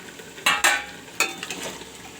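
Hot water hits a pot of mutton curry, producing two quick loud sizzling hisses, then a third, with the bubbling dying back to a softer simmer, no voices.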